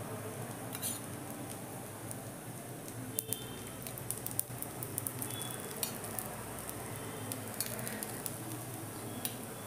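Grated raw potato snack frying in oil in a pan gives a steady, close sizzle throughout, with a few light utensil clicks and scrapes.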